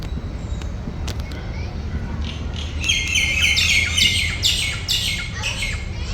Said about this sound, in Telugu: బర్డ్స్ చూడండి అలాగా అరుస్తున్నాయో